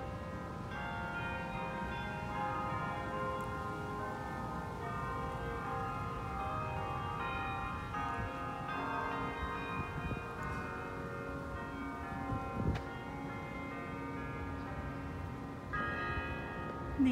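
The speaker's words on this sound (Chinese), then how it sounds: "远处的钟声是不是有点修道院的气氛？" A distant bell rings on the San Diego State University campus near a mission-style tower and cloister, giving sustained, layered tones that hang faintly but steadily throughout, with light ambient noise.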